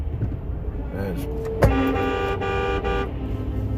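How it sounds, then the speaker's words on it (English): Tractor-trailer truck horns blast once, then hold a long steady honk, over the rumble of passing road traffic and a voice. "they're blowing the horns as they drive by us"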